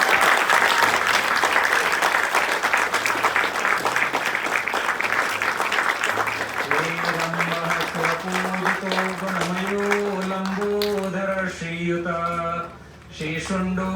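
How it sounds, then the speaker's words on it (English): Wedding guests applaud the bride and groom at a ceremony, a dense wash of clapping filling the first half before fading under a chanting voice that carries on to the end. "Give a round of applause."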